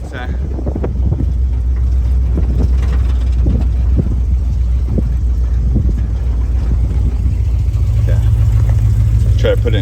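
An early Ford Bronco engine runs at a fast idle in a parking lot, a steady low rumble with a few intermittent knocks and some wind noise throughout.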